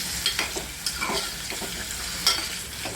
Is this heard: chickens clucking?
no